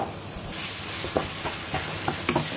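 Minced meat with pepper, sweet paprika and seasoning sizzles steadily in a hot pan while a spoon stirs it, giving a series of soft scraping knocks over the constant frying hiss, close and moderately loud, with no talking.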